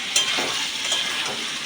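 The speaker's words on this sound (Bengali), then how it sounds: "এবার একটু নেড়ে নেব, তলায় লেগে যাচ্ছে।" Dry chilli chicken sizzles in a pan as it is stirred, a close, steady hiss of frying with a couple of soft scraping strokes.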